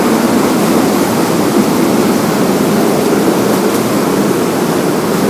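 A waterfall in Bali roars in a loud, steady, unbroken rush of falling water heard up close, with no voices.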